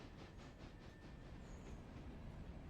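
A steam locomotive in the train game Railroader, damaged and broken, gives off a loud, continuous rumbling roar with soft, rhythmic chuffing pulses beneath it, heard alone without voices.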